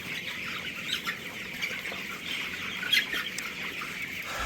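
Young cockerels, sixteen days old, in a poultry shed with wood-shavings litter, clucking and chirping as a steady dense flock chorus with small peaks, no talk.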